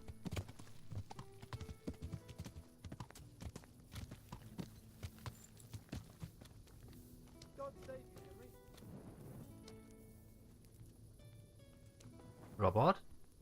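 Horse hooves clip-clop in the video game Kingdom Come: Deliverance, irregular thuds under someone talking, ending in a short bright burst of sound.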